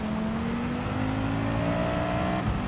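Engine of a 1973 Lancia Stratos Group B rally car in Gran Turismo 7, a steady loud drone with a slowly rising pitch under a constant roar, continuous through the whole stretch with no voices.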